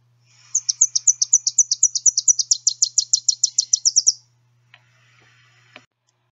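A male Tennessee warbler sings one loud, close burst of rapid, high staccato notes that speed up toward the end, followed by a couple of faint ticks.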